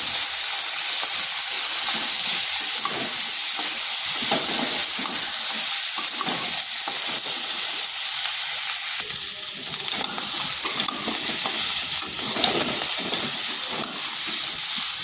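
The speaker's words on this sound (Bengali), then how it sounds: "এরপর ওই তেলের মধ্যে কাঁঠাল বিচিগুলো একটু ভেজে নিচ্ছি।" Jackfruit seeds frying in hot oil in a kadai give a loud, steady, close sizzle with constant hiss and crackle for the whole stretch, with no voices.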